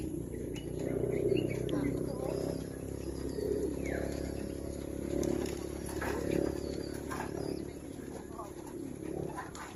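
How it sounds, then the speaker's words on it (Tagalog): Pigeons at a highland park near Legazpi City in the Philippines coo softly among other bird chirps, under steady people's talk and background crowd murmur, with a dog briefly heard. "Ito kami sa Kalapati. May Kalapati."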